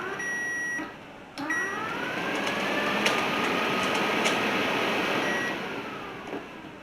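Electric radiator fan on a 1983 Chevy C10 squarebody whirs up to speed after a short start, holds a steady broadband whoosh with a faint tonal whine for about four seconds, then winds down.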